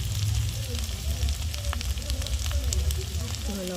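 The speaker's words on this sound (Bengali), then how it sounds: "মশলাটাকে একটু ভালো করে কষিয়ে নেব।" Chicken with turmeric, dried chili and other spices sizzling and being stirred in a pan, a steady close crackle with scraping strokes throughout.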